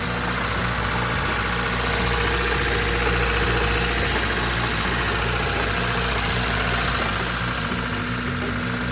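A Honda Civic EJ engine, said to have a blown motor, runs at a steady idle with a loud, continuous throbbing drone and rhythmic knocking, close up and unbroken throughout.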